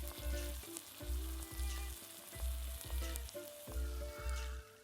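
Mustard seeds and cumin crackle in hot oil, making a loud, continuous close-up sizzle with scattered sharp pops and a pulsing, rhythmic undertone.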